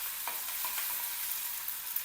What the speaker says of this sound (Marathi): लसणाला आणि अद्रकला छान भाजून घ्यायचं